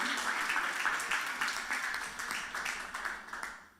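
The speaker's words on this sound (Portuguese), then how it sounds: "Can you clap to the Lord?" A church congregation claps along in worship, rhythmic hand claps repeating steadily at a moderate distance for a few seconds.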